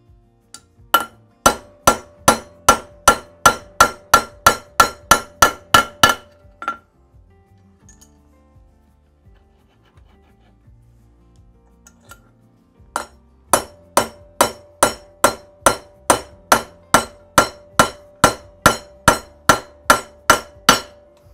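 Steel hammer tapping a drift to drive valve guides into a classic Mini cylinder head: two runs of rapid, evenly spaced sharp metallic taps, loud and close, split by a quiet pause of several seconds.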